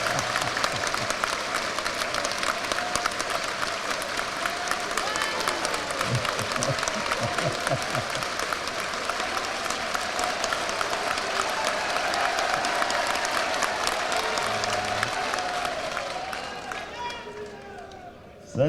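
Large audience at a panchayat secretaries' conference claps in long, sustained, dense applause that stays loud and even before fading near the end.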